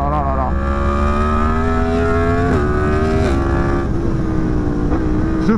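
Yamaha MT-10 motorcycle engine sustaining a loud, steady drone while riding through long curves, pitch shifting slightly with throttle changes and a few brief gear-change dips.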